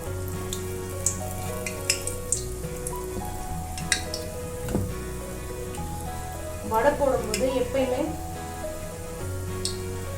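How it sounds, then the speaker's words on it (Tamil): Dahi vada batter drops into hot oil and sizzles, with a low hum and faint clinks underneath and a burst of bubbling crackle midway as more batter goes in. Speech is also present. "எண்ணெய் காஞ்சிருச்சு. நான் இப்போ வடை போட்டுடுறேன்."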